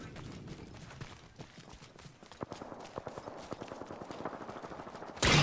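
Video game gunfire comes as rapid, sharp repeated shots in quick bursts, growing denser and louder partway through, close and continuous with no talk.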